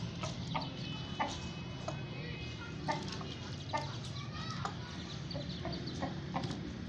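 An Aseel rooster gives soft clucks while being washed with water, with scattered short taps and splashy clicks over a steady low background rumble.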